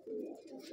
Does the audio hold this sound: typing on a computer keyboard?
no